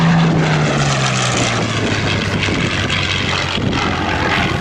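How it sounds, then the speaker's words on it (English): A Curtiss P-40 Warhawk, powered by a liquid-cooled 1,710-cubic-inch V12, drones loudly overhead at a World War II airshow while looping, its propeller engine tone sliding steadily lower as it passes. "The aircraft built by Curtiss, known as the Warhawk, the Kitty Hawk, the Tomahawk"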